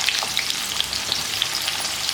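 Onions sizzle steadily in hot oil for a vegetable biryani, a dense, even crackle with small pops and no voices.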